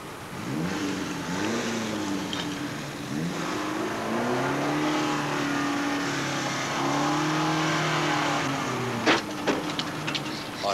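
A car engine revs and idles steadily as a woman parks it in a car park, the motor note rising and falling close by, with brief people's voices and a few sharp knocks near the end.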